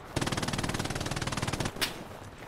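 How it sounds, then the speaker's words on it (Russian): Rapid automatic gunfire from the World War II shooter game Hell Let Loose on PS5, a loud steady burst of evenly spaced shots lasting about a second and a half, then a single sharp blast and fading echo. "вот это выстрел"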